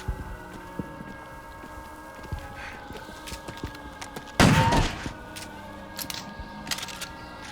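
A loud gunshot blast from the video game Crow Country stands out once amid quiet, low background game ambience and a few faint clicks.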